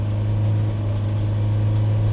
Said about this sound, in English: Just try and increase the revs back to sort of 3000 there a little bit.